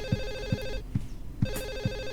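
A telephone rings in the video game Silent Hill 4, an electronic trilling bell in two bursts separated by a short pause, fairly loud over a low rhythmic thudding background.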